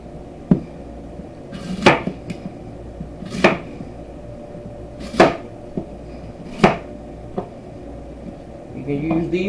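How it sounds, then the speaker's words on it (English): Apples are chopped with a knife for an apple walnut jerk chicken dish: about half a dozen sharp, evenly spaced strikes against a board, close by over a faint kitchen background hum. "I'm just chopping my apples."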